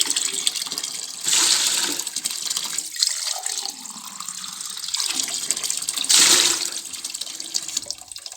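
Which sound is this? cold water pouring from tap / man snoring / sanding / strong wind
cold water pouring from tap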